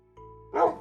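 A single short bark from a pet dog in the Minecraft video game, close and fairly loud, rising over a steady low tonal hum of in-game background sound that plays beforehand, with no talking.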